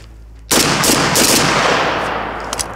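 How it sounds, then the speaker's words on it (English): A single sharp rifle shot cracks out close and loud during a reliability test comparing a Daniel Defense M4A1 with a Bulgarian Arsenal SLR-104 AK-74, then a long rolling echo fades outdoors. "Test fire."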